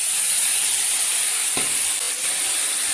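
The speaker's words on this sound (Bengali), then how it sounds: "দেখো সেদ্ধ করে রাখা কচু শাকটা কড়াই দিয়ে দেবো।" Boiled taro leaves go into a hot wok with green chillies frying in oil, giving a steady, close sizzling hiss throughout and a brief stirring or dropping sound midway, with no talking.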